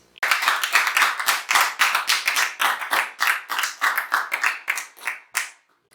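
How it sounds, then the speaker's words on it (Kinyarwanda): A church congregation gives a short burst of brisk, rhythmic clapping, close and fairly loud, which stops abruptly after about five seconds. "Mukomere Imana amashyi kubw'ijambo mu Pastorine atugejejeho"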